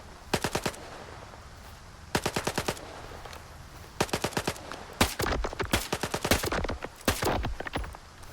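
Automatic gunfire from the S.T.A.L.K.E.R. 2: Heart of Chernobyl video game rattles out in several short, rapid bursts separated by pauses, loud and close, with denser overlapping shots toward the end.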